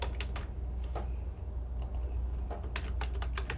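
Typing on a computer keyboard, a quick irregular patter of light key clicks in short bursts over a steady low hum, close and alone without speech.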